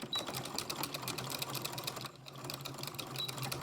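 Sewing machine back stitching at the hem of a placemat, a quiet, rapid, rhythmic clatter of short stitches running continuously with a brief dip midway.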